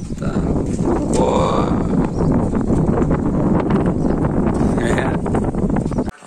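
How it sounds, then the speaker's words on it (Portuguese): Strong wind roars across the microphone outdoors while kites fly, a loud continuous rumbling buffet that holds for several seconds before cutting off abruptly. "O vento tá forte."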